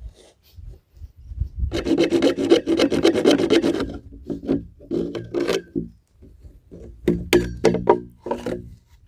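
A heated knife is worked into PVC pipe, giving bursts of close, gritty rasping strokes separated by short quiet gaps.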